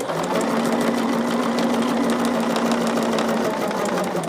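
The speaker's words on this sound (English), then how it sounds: "we've got a 4 and a background right here that I am sewing together." Sewing machine stitching quilt pieces together for a Trip Around the Block quilt, a steady close, continuous mechanical whir with a fast even stitching buzz running throughout, alone without talk.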